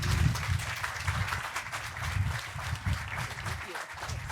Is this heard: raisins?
no